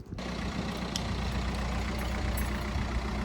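An Audi TT engine runs at a steady idle after a jump start, a continuous close rumble with a low, even drone and no talk.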